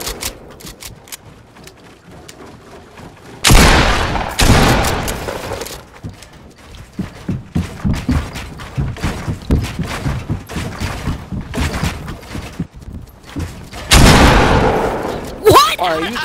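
Gunfire in a one-on-one online shooter match, several sharp loud bursts of shots breaking out over a player's ongoing talk.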